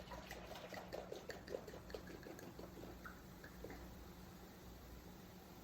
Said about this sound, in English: we're gonna pour the whole bottle into this bowl